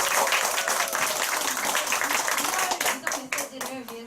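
Audience applause at a group business meeting, a dense steady wash of many hands clapping close by that thins and grows choppier toward the end, with voices mixed in underneath.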